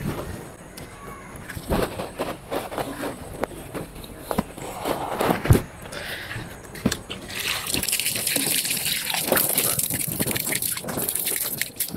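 Water runs from a tank tap outdoors as someone washes hands, feet and face, a gushing splash that grows steadier and louder toward the end, with footsteps and background noise.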